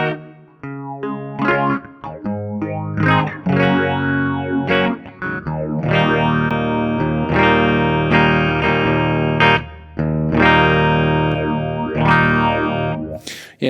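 Distorted electric guitar chords strummed hard through a TC Electronic Helix Phaser pedal on its smooth setting, sustained loud and gritty with a swirling phased sweep, chords restruck every second or two with brief gaps.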